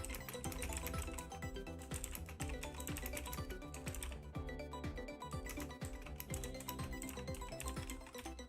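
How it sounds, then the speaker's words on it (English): Typing on a computer keyboard to reply to a message, with a dense run of quick key clicks. The tapping carries on steadily throughout at moderate level, mixed with busy background sound. "Just typing back on a message."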